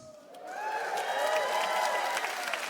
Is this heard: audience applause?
yes